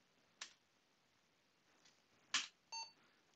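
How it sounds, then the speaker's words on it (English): A couple of faint clicks, then a short, sharp electronic beep from an Apple II computer, alone in quiet. "now we expect to hear our beep"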